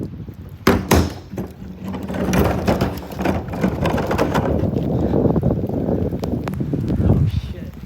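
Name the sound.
strong gusting wind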